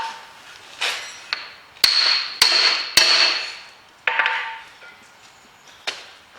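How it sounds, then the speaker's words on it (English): A hammer strikes an Audi TT CV joint in a garage, seven or eight sharp metallic blows at uneven intervals, each ringing briefly before fading, close and loud with no talk. "You need to keep it as straight as possible and try and hammer it."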